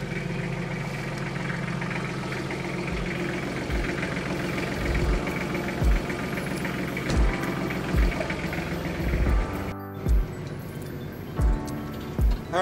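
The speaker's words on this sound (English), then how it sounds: "Alright, tractor's warmed up." Tractor engine idling as it warms up in a garage before clearing snow in an Upper Michigan blizzard, a steady low rumble with periodic knocking thumps repeating every second or two.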